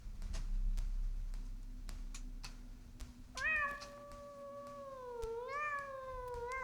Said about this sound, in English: Still hear a cat.